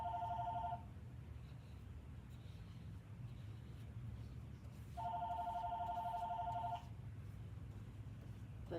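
A telephone rings twice, each burst of electronic trilling lasting under two seconds and separated by about four seconds of quiet room noise, faint and somewhat distant.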